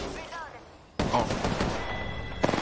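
Shotgun blasts at point-blank range in a first-person shooter game, a dense burst of loud close shots starting abruptly and running on with a further sharp crack near the end, a quiet stretch with a faint voice before them.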